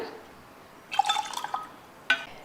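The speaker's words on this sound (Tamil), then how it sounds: "நான் கலந்து கலந்து கரண்டியில் எடுத்து ஊற்றிட்டுருக்கேன்" Nungu palm fruit drink is ladled into tumblers, giving a brief burst of liquid splashing and dripping followed by a single short trickle, quiet and close.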